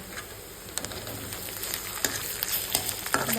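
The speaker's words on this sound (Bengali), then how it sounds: "এখন আমি ছেড়ে দেবো আদা রসুন বাটা" Ginger garlic paste drops into onions and green chillies frying in a pan, a soft continuous sizzle with scattered sharp clicks and taps of a spoon against the pan.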